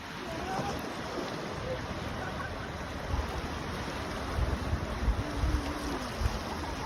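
Sea waves wash steadily against the shore at Laolongtou, Shanhaiguan, where the Ming Great Wall meets the sea on a morning beach, with wind noise and a few stronger surges toward the end.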